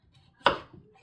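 A single crisp knife cut through a firm beet onto a cutting board, quiet and close, with near silence around it.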